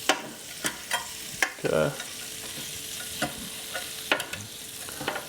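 Lemon pepper shrimp sizzle steadily on a Ninja Foodi XL Grill while a utensil clicks and scrapes as they are flipped, with one short spoken word near the start.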